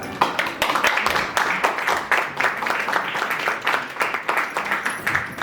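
Dense, sustained applause from an audience after a group veena performance at a temple, steady and moderately loud throughout with no talk over it.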